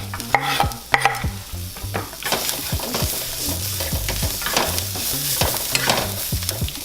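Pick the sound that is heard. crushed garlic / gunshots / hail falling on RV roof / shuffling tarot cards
crushed garlic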